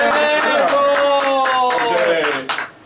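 Studio audience applause for a guest on a talk show, a dense wash of clapping over a steady tonal backdrop that holds strong for over two seconds before trailing off.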